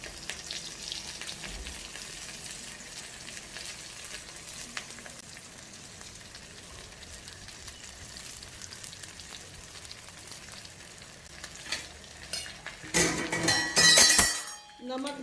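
Pieces of charota vegetable go into a hot pan for a sabji, producing a steady soft sizzle and frying hiss that swells louder near the end as they land, with clinks of utensil on pan.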